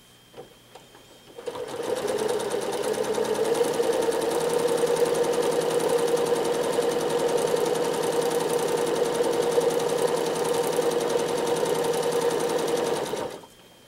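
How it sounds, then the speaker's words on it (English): A sewing machine runs continuously for several seconds during free-motion stippling on a quilt, a steady, close whir with rapid needle chatter that starts after a quiet moment and stops abruptly at the end. "Now I'm going to stitch back into that space and fill it with stippling."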